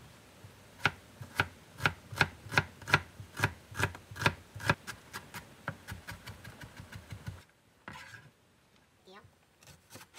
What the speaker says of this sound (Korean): 양념장에 들어갈 양파와 대파를 잘게 다져주세요.